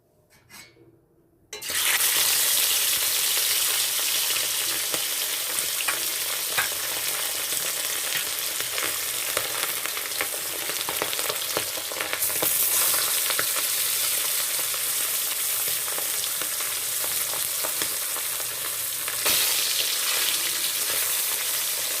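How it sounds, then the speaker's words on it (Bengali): Loud, continuous sizzling of fish frying in hot oil, starting abruptly after a brief quiet moment and crackling steadily throughout. "এবার ভেজে নিচ্ছি"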